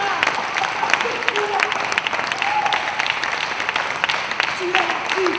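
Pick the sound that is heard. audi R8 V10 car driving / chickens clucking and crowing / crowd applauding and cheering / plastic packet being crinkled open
crowd applauding and cheering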